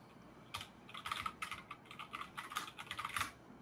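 Fingers type on a computer keyboard nearby, producing irregular bursts of crisp key clicks with short pauses between them in an otherwise quiet room, with no one speaking.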